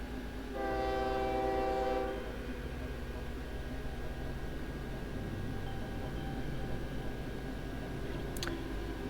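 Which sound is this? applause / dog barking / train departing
train departing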